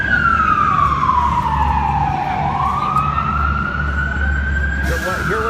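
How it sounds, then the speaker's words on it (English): A fire truck siren wails past on a city street during a convention, its pitch sliding down then rising again over a steady engine rumble, loud and close, with a brief burst of noise near the end. "Oh, that's a fire truck."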